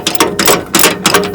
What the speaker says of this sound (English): you could still get a ratchet in there